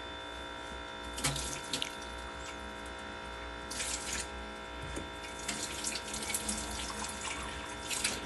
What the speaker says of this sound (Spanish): Después enjuágalo muy bien con el agua necesaria.